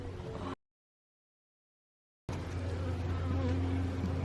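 Honey bees buzz steadily and densely during a hive inspection, a close, continuous swarm drone that cuts out to silence for under two seconds and then resumes at full strength.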